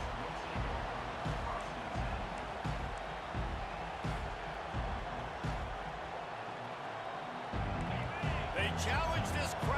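A steady stadium crowd roars through a college football game in EA Sports College Football 25. The dense cheering din runs continuously under the commentator's voice and swells near the end.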